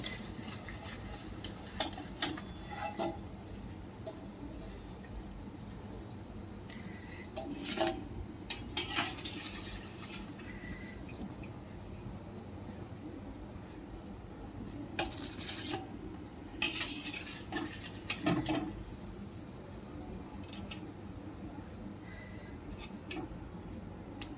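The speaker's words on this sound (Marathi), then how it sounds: "आता आपण ते काढून घेऊयात" Deep-fried katvada fritters are lifted out of a pan of oil with metal utensils, giving scattered sharp clinks and scrapes over a soft, steady frying hiss, close by and without talking.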